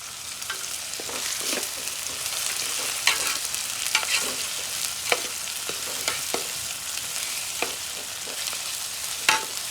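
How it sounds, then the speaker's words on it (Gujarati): Sliced onion fries in hot oil while a spoon stirs it, a steady close sizzle with scattered scraping clicks and taps from the spoon, no talking. "ડુંગળી પણ નખાઈ ગઈ છે. તો હવે છે ને હાથમાં લઈ લીધો ચમચે છે ને ઘડી પર હલાવી નાખી"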